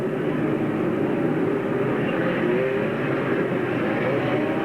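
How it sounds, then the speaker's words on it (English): A 4-cylinder class race car runs on a track, with a loud, steady engine roar that holds throughout and shifts slightly in pitch as it passes. "Here he comes. The laps counting down for our leader, Gene Lanois."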